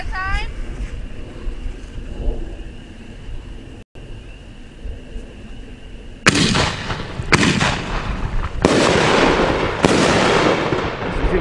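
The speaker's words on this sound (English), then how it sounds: "4-inch cans, Big Fireworks, neon eggshells." Big Fireworks 4-inch neon eggshell cans fire outdoors. After a quieter stretch with some talk, several loud, booming bursts and crackling breaks follow in close succession, the shells going off two at a time.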